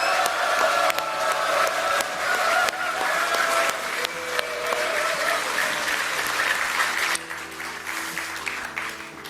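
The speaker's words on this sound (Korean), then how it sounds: "더욱 큰 박수 한번 보내드립시다" Audience applause at the 2020 launch rally of a South Korean political party: loud, dense clapping from a large indoor crowd, sustained throughout and easing slightly near the end.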